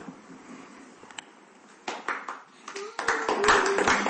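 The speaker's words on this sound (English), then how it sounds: "We don't normally allow applause, but yeah, there you go." Scattered applause from a small group at a local council meeting, starting as a few light claps and building into brisk, moderately close clapping over a quiet room, with a brief voice heard early on.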